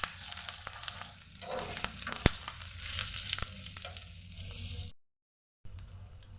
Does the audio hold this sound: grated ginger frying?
yes